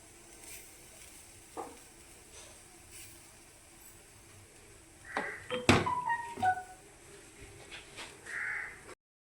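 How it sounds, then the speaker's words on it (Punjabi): Finely chopped onion and tomato hit hot oil in a pan, giving a burst of sizzling and spattering midway that then settles, while crows caw nearby throughout. "ਬਰੀਕ ਕੱਟਿਆ ਹੋਇਆ ਪਿਆਜ਼ ਪਾ ਦਿੰਨੇ ਨਾਲ ਹੀ ਆਪਾਂ ਟਮਾਟਰ ਪਾ ਦਿੰਨੇ ਆ"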